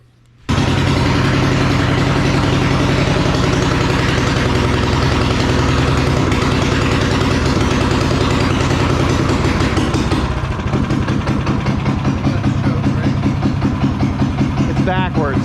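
The Predator 301 engine on a Coleman BT200x minibike starts and then idles close by, loud and steady with a rough, chugging pulse and a slight shift in tone partway through.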